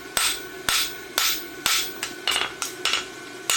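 A blacksmith hammers a roadster horseshoe on an anvil to flatten its thickness, striking about eight loud, close, ringing metallic blows at a steady, slightly uneven rhythm with no talk.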